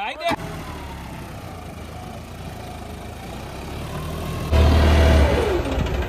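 A tractor engine rumbles steadily, then revs up louder toward the end, with people talking over it.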